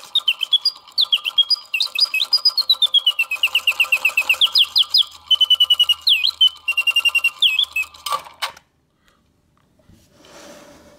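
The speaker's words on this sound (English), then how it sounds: "The bird sings and animates perfectly." Antique sterling silver singing bird box with guilloche and enamel, its automaton bird trilling a long run of rapid, clear whistled chirps and sliding notes for about eight seconds, loud and close, then stopping with a click into near silence.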